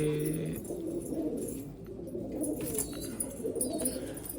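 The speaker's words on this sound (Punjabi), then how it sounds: "ਸਿਆਲਕੋਟੀ ਕਬੂਤਰ 35 ਵਾਲਾ" Sialkoti pigeons cooing in a coop, soft low repeated coos over a continuous murmur of birds, with faint higher chirps near the end.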